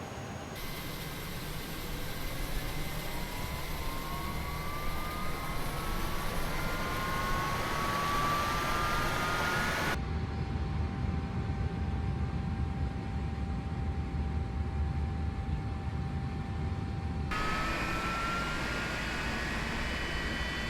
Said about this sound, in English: let's go ahead and get our number 2 engine up and going